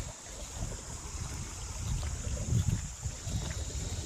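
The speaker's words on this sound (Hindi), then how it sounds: "पूरा झरने लग रहे हैं वाटरफॉल से।" Water from a waterfall rushes and splashes in a continuous low roar, steady and close with slight swells, no voices over it.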